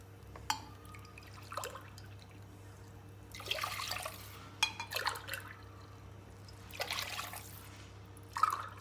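Cold water is poured into a pot for chicken rice pilaf in a few soft splashing bursts with faint clinks between them, close but quiet over a low steady hum.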